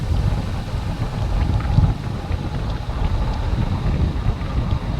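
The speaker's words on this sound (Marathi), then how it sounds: "आता पाऊस सुरू झाला." Rain begins falling at Tamhini Ghat near Pune, a steady dense wash of rainfall with wind buffeting the microphone throughout, loud and close with no voices.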